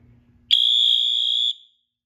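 A fire alarm sounds during a system walk test, one loud steady electronic tone starting abruptly and holding for about a second before cutting off, after faint low background noise.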